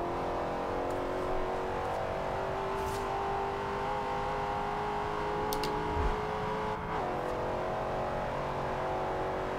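A 2015 Dodge Charger R/T accelerates hard in Forza Horizon 2 with a steady, droning engine note that climbs through the revs. A brief dip partway through sounds like a gear change, and the car keeps pulling strongly right up close.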